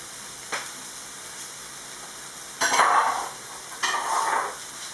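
Shrimp tossed into a pan of frying carrots, setting off two bursts of sizzling with light stirring scrapes, close and moderately loud over a faint background hiss.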